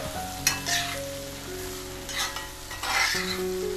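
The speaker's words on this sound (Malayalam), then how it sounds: "നമുക്ക് എടുത്തു വെച്ച തേങ്ങ ഇട്ടൊന്ന് മിക്സ് ചെയ്യുക" Koorkka, Chinese potato, stir-frying with grated coconut in a pan, with a steady soft sizzle under scraping stirs and a few louder clatters of the spoon, no talk.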